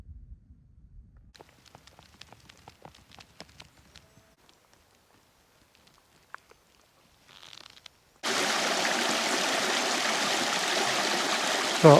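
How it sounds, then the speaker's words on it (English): A stream tumbles down toward a reservoir in the Peak District moorland. Scattered footsteps and clicks come first, then a loud, close, steady rush of flowing water fills the rest. "So I managed to fill my water bottle up from this stream."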